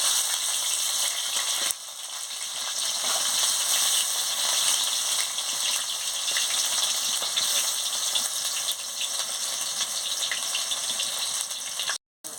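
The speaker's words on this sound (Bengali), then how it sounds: "এবার তেলটা গরম হয়ে গেছে, আমি ঢেঁড়সগুলো দিয়ে দিচ্ছি।" Okra pieces frying in hot oil in a pan, a steady close broadband sizzle that continues almost unbroken for about twelve seconds, with a brief dip near the start and a short cutout near the end.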